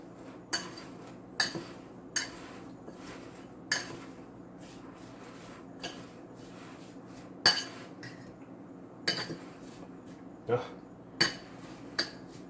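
A spoon stirs sliced apples coated with sugar in a bowl, giving sparse, sharp clinks against the dish at irregular intervals over a quiet, steady background.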